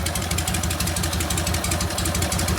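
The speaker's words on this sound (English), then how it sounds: "The idle speed's coming up a little bit." A 1952 Harley-Davidson panhead with a Linkert carburetor and no air cleaner idles close by, running lean with a steady, loud, rapid thumping rhythm and a slight rise in speed.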